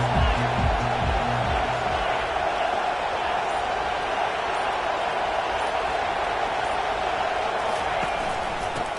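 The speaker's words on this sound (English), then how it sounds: "listen to this crowd roar" A big stadium crowd roars continuously, a dense wall of noise with a low thumping rhythm at first and a voice faintly mixed in.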